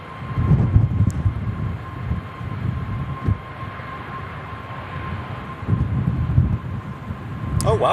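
A TUI Netherlands airliner comes in to land in wind at Manchester Airport, a broad rumbling roar with gusty low buffeting that swells and eases, heard from a distance beneath a steady high whine.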